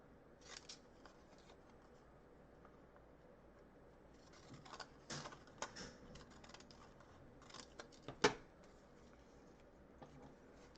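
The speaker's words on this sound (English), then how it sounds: "Use my Decollage scissors. My Fiskars ones, which are like the best Decollage scissors because they actually work." Fiskars decollage scissors cut through coffee-dyed paper in faint, close snips and rustles, scattered irregularly over a quiet room with one sharper click near the end.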